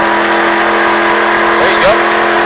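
A race car on the Richard Petty driving experience accelerates on track, its engine droning loud and steady from inside the car, with a voice speaking over it.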